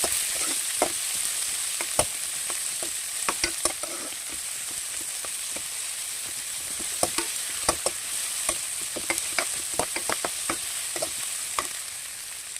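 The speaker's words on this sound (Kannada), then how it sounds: "ಈಗ ನೀರುಳ್ಳಿಯನ್ನು ನಾವು ಆ್ಯಡ್ ಮಾಡ್ಕೊಳ್ಳುವ. ಅದೊಂದು ಸ್ವಲ್ಪ ಫ್ರೈ ಆದಮೇಲೆ" Onions frying in a pan for chicken sukka, a steady close sizzle broken by scattered clicks and scrapes of stirring, with no voices.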